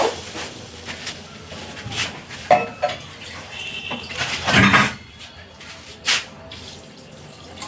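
Water poured into a pan of frying soybean curry, with splashing and the clink of a utensil against the pan in a few bursts, plus drips and a sizzling undertone between them.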